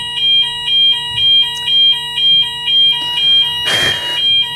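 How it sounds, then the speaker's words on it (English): A building fire alarm rings loud and close in a steady repeating pattern of electronic beeps, about one pulse per half second, with a brief burst of clattering noise near the end. "fire alarm."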